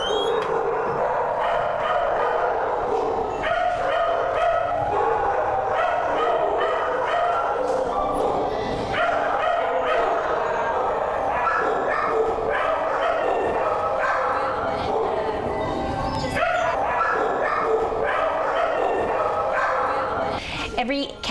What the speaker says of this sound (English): through this door where all the barking is.